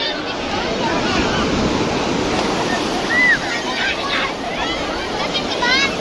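Sea waves wash steadily onto the beach at Tiruchendur, a loud continuous surf roar with wind buffeting the microphone and faint voices of people nearby.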